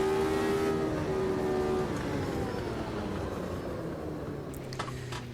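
Race car engine in the Automobilista 2 sim, driven with an H-pattern shifter and manual clutch, drones steadily with a harmonic whine, then its pitch falls away after a gear change around the two-second mark, continuous and fairly loud.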